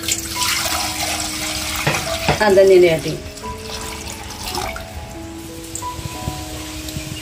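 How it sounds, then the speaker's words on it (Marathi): Water being poured into a cooking pot while making a traditional Konkan jackfruit dish, a short splashing gush that builds and then stops, with someone speaking over it. "हे पाणी ओतते"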